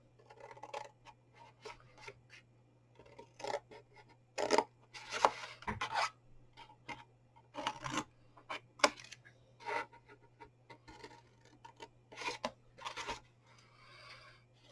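Scissors snipping and chopping material to build a chocolate box, a series of short crisp cuts and scraping rustles in irregular bursts, close and quiet over a steady low hum, with no talking.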